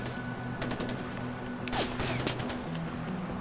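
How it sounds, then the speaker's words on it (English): Gunfire in Far Cry 4: a few sharp shots stand out around the middle, over a steady low game hum. The bursts are fairly quiet and fall close together, with no talk over them. "What the fuck are you just shooting at?"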